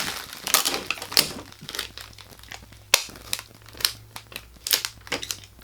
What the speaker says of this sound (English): Fold it over, and now I'm gonna tape it.